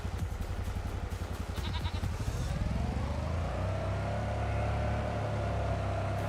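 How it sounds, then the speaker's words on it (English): Sheep bleating on a farm in Farming Simulator 25, a few wavering bleats over a steady vehicle engine drone and a dense background of game sounds. "We kind of want to get more sheep."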